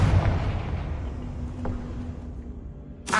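A Confringo fire spell explosion in a Hogwarts Legacy game fight, one loud boom that fades out over a couple of seconds before a second sharp burst at the end.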